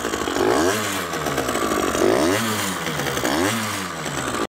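Stunt motorcycle engine, a budget supermoto build with a worn-out muffler, revving in three rising-and-falling surges, loud, raspy and close, with no talking.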